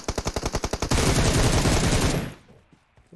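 Rapid automatic gunfire in the mobile battle royale game PUBG Mobile, a burst of about ten evenly spaced loud shots followed by a dense sustained volley that cuts off, with no talking.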